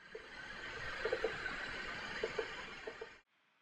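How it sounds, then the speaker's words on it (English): Amplified nerve spikes from an earthworm touched at its posterior end with a toothpick come through as a few faint, sharp pops over a steady electronic hiss, which cuts off abruptly near the end. "What you are hearing are one or two spikes elicited when I touch the posterior end with a toothpick."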